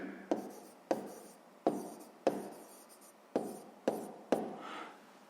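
Pen strokes from handwriting while solving a school math exercise come as a series of about seven distinct scratchy bursts, each fading out, close and clear with no talking.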